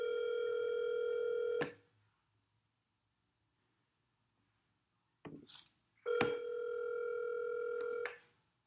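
Telephone line tones from an outbound sales call: a long steady electronic tone cuts off, a short click and blip follow after a silence, then a second long tone sounds for about two seconds.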